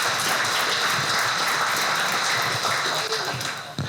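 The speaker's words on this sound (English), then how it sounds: "please join me in giving a round of applause to all the sponsors that make this event happen" An audience at a regional chamber of commerce evening event applauds for the sponsors, a dense, steady wash of clapping that fades near the end.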